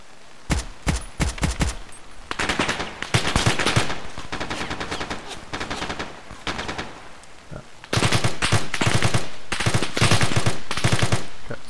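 Machine-gun fire in the military shooter Arma 3, loud rapid bursts of automatic gunfire repeating through the clip with short gaps, dense and close, with no talking.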